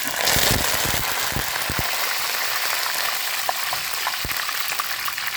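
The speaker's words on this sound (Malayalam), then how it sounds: "മസാലകളൊക്കെ പൊട്ടി കടുക് പൊട്ടി ഉലുവ പൊട്ടി ജീരകം പൊട്ടി" Dense crackling and sizzling of mustard seeds, fenugreek, cumin and spices spluttering in hot oil, with sharp pops scattered throughout, steady and close.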